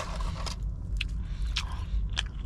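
A Burger King Bacon King with fries tucked inside is bitten and chewed up close, giving wet crunching bites and soft mastication over a steady low background hum.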